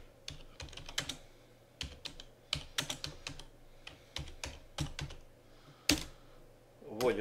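Keys tapped on a computer keyboard while a password is entered, a quiet, close, irregular run of individual clicks with short gaps.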